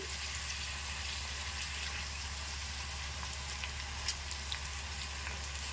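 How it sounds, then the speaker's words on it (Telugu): Hibiscus flowers simmer in homemade hair oil on the stove, a low, even bubbling sizzle that runs on alone, with a single small pop partway through. "అవి చూసారా మరుగుతున్నాయి కదా చక్కగా"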